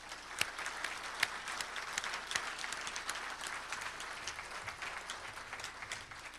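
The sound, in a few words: applause at a banquet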